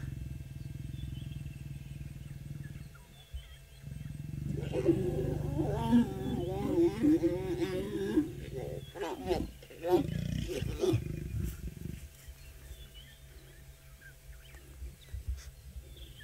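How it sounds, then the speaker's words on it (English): A female lion growls during mating on a safari, deep rough growls and roars rising in the middle and then tapering off, with a person speaking faintly in the background. "the female was growling a lot as he was withdrawing his copulatory organ"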